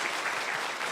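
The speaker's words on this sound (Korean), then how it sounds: "마지막으로 박수 한번." An audience at a book concert claps together, a brief burst of dense, even applause heard at a moderate distance.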